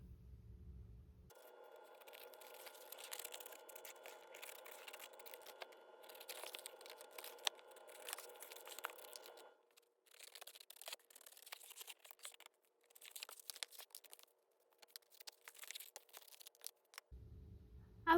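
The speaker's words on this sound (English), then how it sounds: "So I'll go through and fussy cut." Scissors fussy-cut flowers out of a Daphne's Diary magazine page for a junk journal, producing faint, intermittent snips and soft paper rustling with pauses, close by and with no talking.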